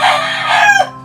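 An Elba breed chicken lets out a loud, close crow with clucking, a single brief call in a poultry pen.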